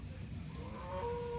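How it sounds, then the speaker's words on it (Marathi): A cow moos at the Loni cattle market in Maharashtra: one short, low, rising call, faint against a steady wash of crowd and market noise. "ताजी वेलेली गाय आहे."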